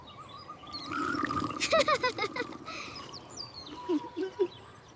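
Small bright chirping calls come in a quick run of rising notes, followed by a few softer chirps, close and clear over light background hiss.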